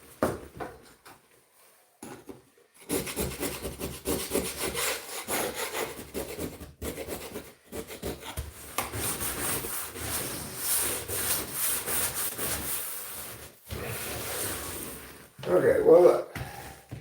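A screwdriver scrapes paint off wood in repeated rough rasping strokes, close and fairly loud, with brief pauses between bursts and a voice talking under the scraping.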